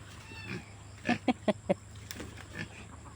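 A cat gives a quick run of four short meows in the middle, fairly faint over a low background hum.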